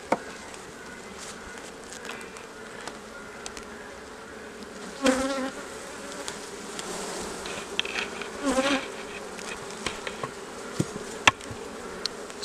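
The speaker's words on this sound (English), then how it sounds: "It's hard to get these frames up sometimes because the bees are all in my way." Honey bees buzz around a lifted frame during a fall hive inspection, a dense steady hum with individual bees swelling louder as they fly close past, plus occasional faint knocks and scrapes.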